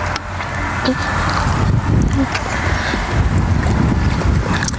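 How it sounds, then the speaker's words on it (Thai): A low, steady excavator engine rumble drones under gusty wind noise, with faint voices in the background. "ได้ยินเสียงรถแมคโครบ่เมื่อกี้นะ"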